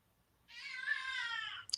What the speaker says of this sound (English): Yes, that's a cat.